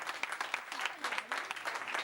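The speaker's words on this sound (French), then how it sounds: "Allez, vos applaudissements" Audience at an event in Fontainebleau claps steadily for about two seconds, a dense, even patter of many hands with small swells and no voices over it.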